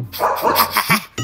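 A dog barks in a quick run of several sharp yips and barks, loud and close, ending abruptly.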